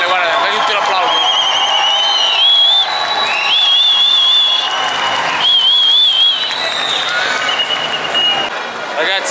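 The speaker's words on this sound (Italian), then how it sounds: "dai tutti l'applauso" Rugby crowd applauding a player at the Stade Geoffroy-Guichard during Italy versus Namibia at the Rugby World Cup, clapping and cheers with loud whistles rising above, a nearby voice talking over it.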